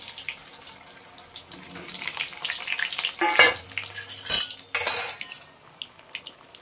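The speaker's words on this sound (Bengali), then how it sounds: "তেলটা গরম হয়ে গেছে, আলুটা একটু লাল লাল করে ভেজে নিই" Potatoes fry in hot oil in a kadai, a soft sizzle broken by louder hissing bursts and metal spatula scraping, with a clink of utensils near the end.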